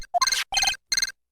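A phone beeps in a courtroom visual novel game, three short bright electronic bursts spaced evenly apart, loud and clear with no talking over them.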